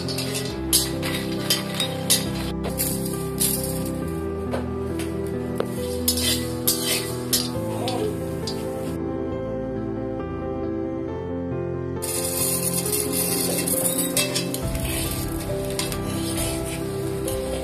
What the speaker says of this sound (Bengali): বাদাম আর বীজগুলো আলাদা আলাদা করে ভেজে নেব